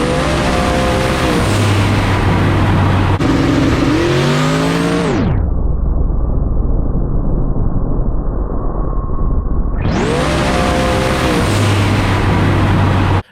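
Car engine roaring at high revs while power is applied during a wheelie, loud and close, with the pitch rising and then cutting off into a muffled lull before the full roar comes back.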